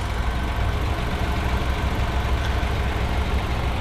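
The 1.5-liter three-cylinder engine of a 2022 Ford Escape S idles steadily, a loud, even low rumble with a faint knocking texture under the hood.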